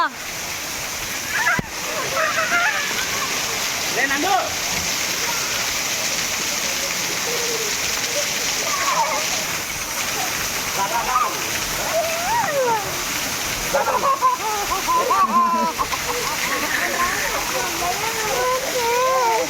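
Water splashes steadily as people bathe in cold stream water, a constant rushing and spattering with occasional louder splashes, while voices talk over it throughout.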